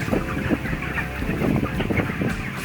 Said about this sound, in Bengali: সাদা ব্রয়লার মুরগি, এরা সাদা ফুলের মতো ফুটে আছে, পুরো ঘর বিছিয়ে আছে